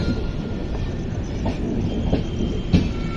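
The Chennai Express passenger train, KSR Bengaluru to MGR Chennai Central, rumbles steadily along the tracks, with a low continuous roar and faint rhythmic clicks from the wheels. No voices.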